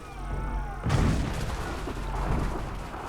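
Musket volley from soldiers in Assassin's Creed 3, a sudden loud burst of overlapping gunfire that breaks through the battle noise and rolls on as a rumbling roar.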